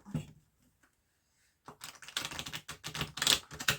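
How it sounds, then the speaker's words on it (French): Tarot cards being shuffled on a table: a short scrape, a brief silence, then two seconds of dense, rapid, crisp clicking and riffling up close. "Je vais bien brasser les cartes"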